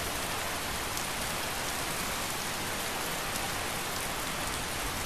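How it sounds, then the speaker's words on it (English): Rainfall in the Skyrim video game forms an unbroken, even wash of drops that stays constant and fairly loud for the whole stretch, with no talking over it. "Oh, it's raining."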